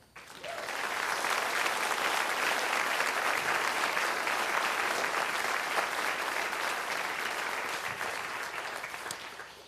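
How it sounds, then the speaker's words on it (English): Applause from the audience at a school concert and symphonic band performance, rising quickly into a thick, sustained roar of clapping from a large crowd, then easing off slightly toward the end. "another round of applause."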